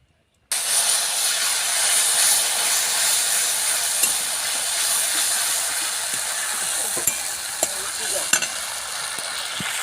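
Chili and turmeric paste mixed with water hits hot oil with cumin in a wok, giving a loud, steady sizzle and hiss that stays close and continuous, with a few scraping stirs and no talking.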